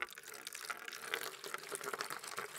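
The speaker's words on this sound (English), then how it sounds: "This is where the water flows in, then up the tube," Water flows out of a biosand filter's outlet tube in a steady, faint trickle and splash that runs without a break, with no voices present.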